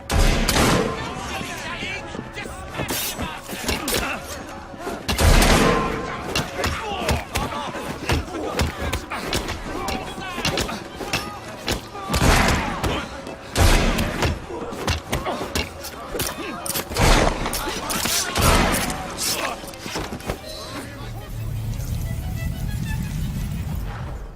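Gunfire and impacts in Assassin's Creed Syndicate, a dense run of loud, sharp broadband cracks and bangs that repeat irregularly through a busy cutscene mix, with voices speaking over the action.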